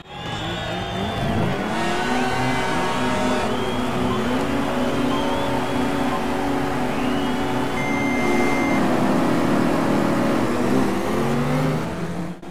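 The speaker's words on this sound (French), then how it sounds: "on va débuter la première course avec notre Lotus Cortina, volant à droite évidemment" A Lotus Cortina in the GT Legends video game roars continuously through a race, the engine revving up and down through gear changes with occasional tyre squeal, loud and close throughout.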